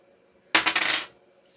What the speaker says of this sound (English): Roll the dice again.